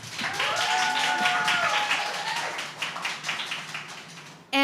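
A live podcast audience gives a round of applause, a soft, dense patter of many hands that swells and gradually thins out.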